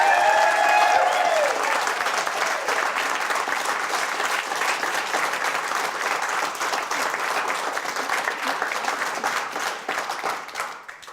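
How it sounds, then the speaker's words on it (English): Audience applause at an award ceremony, dense sustained clapping from a large crowd, loud and steady before tapering off near the end. "That was good applause."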